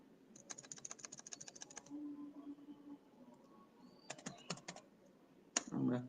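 Code is typed on a computer keyboard in bursts of quick, light clicking keystrokes, with a pause in the middle and a short spell of quiet speech-like sound near the end.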